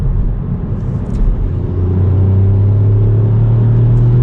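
A 2022 Ford Fiesta ST MK8 engine drones steadily from inside the cabin while driving, with a low rumble that rises slightly in pitch partway through. The noise is loud and continuous, with no talk.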